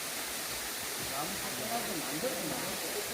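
Steady broadband rush of a waterfall along a forest trail during a drought, a constant wash of water filling the whole clip with faint voices murmuring underneath.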